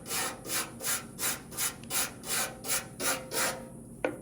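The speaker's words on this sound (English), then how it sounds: "I started to just kind of scrape it away a little bit here" A scraper works dried Osphos coating off a VW Karmann Ghia chassis in about nine steady, rhythmic rasping strokes, close and fairly loud, ending with a sharp click.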